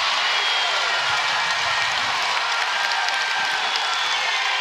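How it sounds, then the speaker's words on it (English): A basketball arena crowd at an NCAA women's game between Iowa and Iowa State roars in a dense, steady wash of cheering that holds loud and unbroken throughout. "This crowd is just begging."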